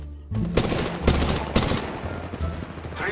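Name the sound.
gunfire in Apex Legends video game, Spitfire and R-301 Carbine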